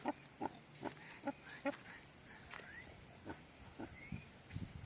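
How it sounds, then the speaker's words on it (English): Wild pig at Granite Gorge in Queensland giving a run of short, close grunts in an irregular rhythm, some quick and clustered, over quiet outdoor background. "This is a wild pig."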